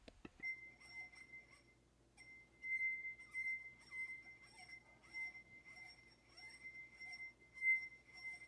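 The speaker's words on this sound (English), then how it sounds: "So rubbing your finger around the rim causes the glass to vibrate" A drinking glass sings as a finger circles its rim, producing a sustained pure ringing tone that swells and fades in repeated strokes, soft and close with faint rubbing underneath.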